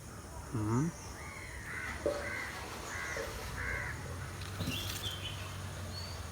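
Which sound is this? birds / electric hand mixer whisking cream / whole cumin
birds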